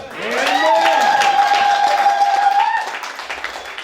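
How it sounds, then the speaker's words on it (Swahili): A church congregation at an Easter service cheers loudly with one long, sustained shout, backed by scattered clapping, before fading near the end. "Nataka shangwe za nguvu nisikie 1 2 3"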